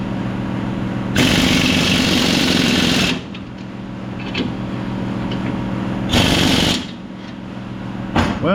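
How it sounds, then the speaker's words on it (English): A shop air compressor thumps away loud and steady in a garage while a '93 Chevy OBS truck gets spring mount and exhaust repairs, with two louder surges of the motor partway through and no talking. "I know the air compressor's kind of loud on us here."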